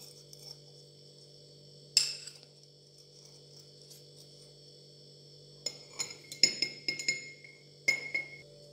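A spoon clinks against a glass bowl while date-pit powder is added, with sharp metallic taps in one early knock and then a cluster of clinks later, over a quiet steady hum.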